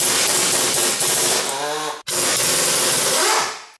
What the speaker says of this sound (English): we're going to take off these 2 17 millimeter bolts on the brake caliper